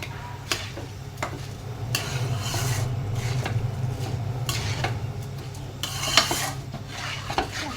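Chicken khichuri spices being stirred in a pot, with repeated scraping and clinking of a spoon against metal over a low steady hum, close and without speech.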